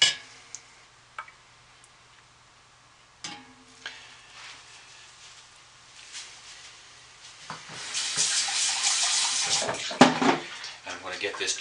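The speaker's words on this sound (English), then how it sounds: "we're going to go ahead and mix the lye in here" Lye solution pours into soap-making oils, a close liquid stream rising in the second half after a few light clinks and taps against the container.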